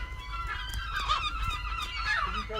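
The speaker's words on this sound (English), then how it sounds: "I'm going to put the baby seagull back on the roof to be with its mother" Baby seagull that has fallen off a roof, calling in a series of harsh honking squawks, close and fairly loud over low background rumble, without speech.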